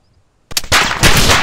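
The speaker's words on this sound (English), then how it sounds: "SD shots at me" Suppressed gunfire from an SD weapon in the Arma 2 DayZ mod video game bursts in suddenly after silence. A rapid cluster of muffled, sharp shots fades into a noisy rumbling tail.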